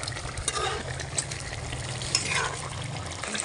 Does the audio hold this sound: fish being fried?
yes